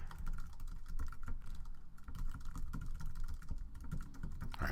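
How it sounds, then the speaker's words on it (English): Fast, steady typing on a computer keyboard, with dense clicking keystrokes running throughout over a low background hum and no talking. "excuse my typing here."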